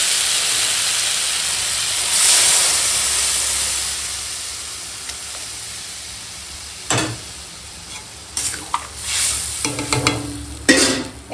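Water poured into a pan of sizzling shrimp and potato masala brings a loud steamy hiss that slowly fades, followed by sharper clatters and bursts of spatter near the end, with no talking.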